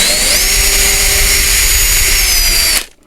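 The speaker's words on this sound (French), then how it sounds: "avant de mettre les vis, on perce toujours un trou" A power drill bores a pilot hole into wood before screws go in, a loud, steady high-pitched whine that runs continuously for a few seconds close by, then cuts off abruptly.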